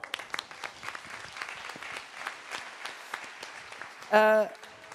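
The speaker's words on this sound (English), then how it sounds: "Applause" Scattered applause from a conference audience, a loose patter of individual claps spread across the room, with a brief burst of a voice near the end.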